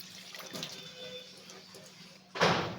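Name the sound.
water poured into a wok for steaming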